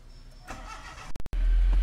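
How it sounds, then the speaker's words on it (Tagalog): A 1999 Honda City's engine cranks in a few quick bursts, then catches and settles into a steady low idle, close and loud. "Start natin, pakita ko sa inyo kung paano siya mag-start."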